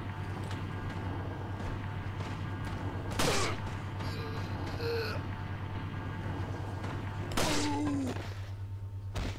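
Gunfire in the video game Resident Evil 4 cracks out in two sharp bursts a few seconds apart over a steady low hum, fairly faint and without talk.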